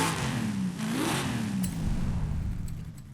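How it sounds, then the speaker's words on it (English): A 2019 Subaru STI S209 swapped to a V8 engine revs in the racing game Forza Horizon 5, a deep rumbling drone that climbs and falls through one rev swing before settling into a steady growl, with no talking. "we went now with the V8 and it just sounds brutal, this car"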